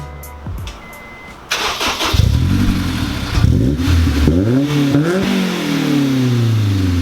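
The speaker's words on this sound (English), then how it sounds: "So this is gonna be the OEM exhaust" A Honda S2000 on its stock OEM exhaust starts up and then revs repeatedly, the engine note climbing and falling through several loud, close pulls before settling into a steady idle.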